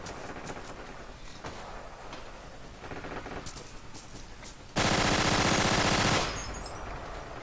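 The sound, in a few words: Suomi submachine gun firing, video game Forgotten Hope 2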